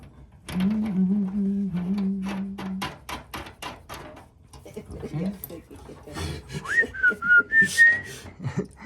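A person whistles a tune while working, first a sustained low melodic line, then higher bright notes later on. Sharp tapping and knocking from the work sounds around it, and a voice is briefly heard.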